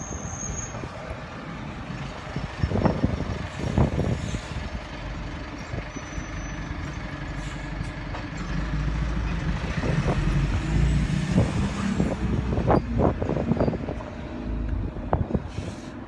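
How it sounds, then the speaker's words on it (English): A motor vehicle passes on a cold, windy day. Its engine rumble builds and fades under steady wind noise on the microphone, with a few sharp clunks and rattles but no talking. "another motor coming"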